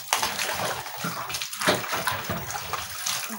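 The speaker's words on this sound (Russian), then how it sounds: "Моем листья." Sorrel leaves are swished and rinsed in water, giving a steady close splashing and sloshing with irregular surges and no talk.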